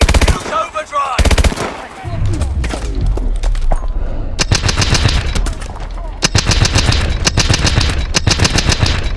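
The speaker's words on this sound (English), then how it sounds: "Oh, it's burst fire." Burst-fire gunshots in the video game Call of Duty Advanced Warfare, loud, rapid, repeated volleys cracking nearly nonstop alongside heavier booms and thuds, with game voices faintly in the mix.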